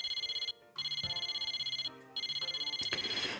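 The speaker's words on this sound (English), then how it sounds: "My cell phone rings again." A cell phone rings in repeated bursts of bright, warbling electronic tones with short gaps between them, clear and close, with no voices.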